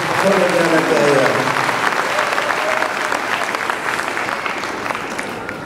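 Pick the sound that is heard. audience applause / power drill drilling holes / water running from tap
audience applause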